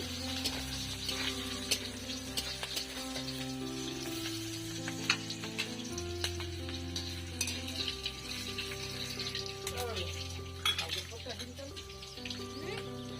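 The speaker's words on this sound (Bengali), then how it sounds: "এখানে গরম হয়ে যাবে, আমি ভেজে নেবো কাজু আর কিশমিশ।" Cashews and raisins frying in oil and ghee in a pan, a steady soft sizzle with occasional stirring clinks and faint background voices, continuous and fairly quiet.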